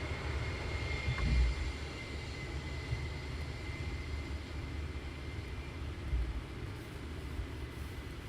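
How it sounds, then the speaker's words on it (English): Airliner landing at Luton Airport with spoilers up and reverse thrust, a steady distant roar of engines holding for several seconds with a low rumble, fading slightly toward the end. "Spoiler up, reverse thrusts."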